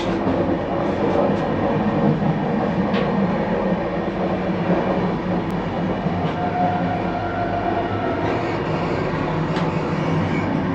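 Inside a moving train near the toilet, a loud continuous rumble and roar fills the space, with faint rhythmic rail clatter and occasional small clicks, no one speaking.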